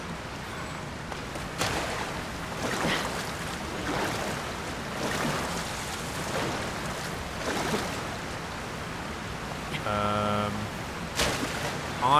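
Rushing water from a waterfall in The Legend of Zelda: Tears of the Kingdom, a steady broadband roar under the game's ambience, with a short chiming interface sound near the end.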